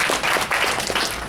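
Applause fills an open mic session at a furry convention, a steady dense patter of many hands clapping close by with no pause.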